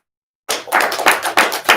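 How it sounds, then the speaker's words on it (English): A burst of hand clapping starts after a short silence, loud and close, with a few distinct swells like a small group applauding. "Give him a round of applause."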